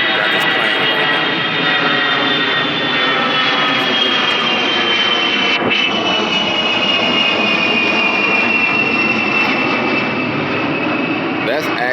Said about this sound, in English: That's actually a military plane right there